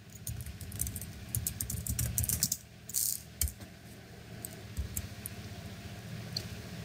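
Faint clicking of fingers typing on a computer keyboard, with short bursts of keystrokes and a brief pause, quiet and close against low background noise.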